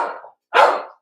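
A small dog sitting on a porch gives two sharp, close barks with a brief pause between them and the start of a third at the end.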